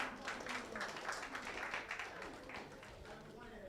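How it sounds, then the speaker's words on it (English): Schools take their seats at a national investment quiz competition while an audience claps. The applause is faint and distant, steady for a few seconds, and speech runs under it. "So please, kindly clap for them while they make their seats."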